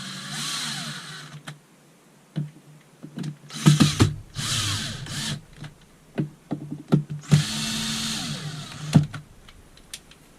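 A power drill drives screws into a toilet flange plate: several short whirring bursts of the motor with clicks and knocks between them, close and fairly loud.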